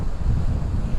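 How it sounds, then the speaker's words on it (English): Strong wind buffets the microphone along the coast at Playa Blanca with high waves nearby, a loud, rumbling, continuous gusting roar with no speech. "it is a very windy one today"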